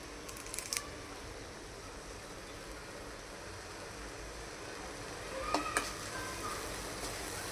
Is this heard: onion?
yes